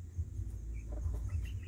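Hens clucking softly inside their coop after being cooped up for a day, a few faint, brief calls over a low background rumble.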